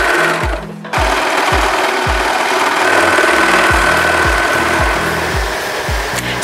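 A serger sewing machine stitches garments in a clothing workshop, running loud and fast in a steady rapid chugging rhythm with a brief pause near the start.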